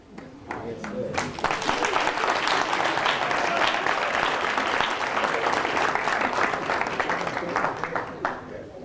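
An audience bursts into sustained applause for a musician about to play an instrument, a dense wash of clapping swelling after a moment and holding steady before tapering at the end.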